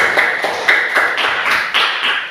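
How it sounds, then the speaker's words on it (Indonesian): A small classroom group gives a brief round of applause for a classmate, a quick run of light, sharp claps lasting a couple of seconds. "Oke, tepuk tangan untuk teman kita."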